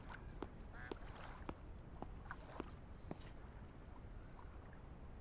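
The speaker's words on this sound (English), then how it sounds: "like the sound of the insects and the birds, the occasional duck you hear, the lapping water" Ambient duck quacks in the camping survival video game The Gold River Project sound as faint, scattered short calls over a steady low bed of outdoor ambience with lapping water.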